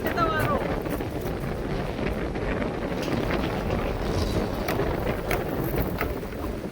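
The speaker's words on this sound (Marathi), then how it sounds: "वादळी वारा पाऊस आला" Strong stormy wind sweeping through Kharepatan in Sindhudurg as a sudden storm with rain moves in, a loud, steady roar with gusty buffeting against the microphone throughout.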